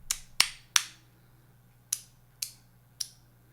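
Six sharp, crisp clicks from a Magnus magnetic slider on the upstroke, in an uneven pattern, three close together then three more spaced out, each decaying quickly in a quiet room.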